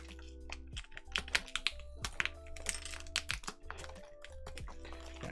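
Keycaps are pulled and shaken out of plastic packaging close by, with sharp clicks, rattles and crinkly rustles in uneven bursts over a steady low hum.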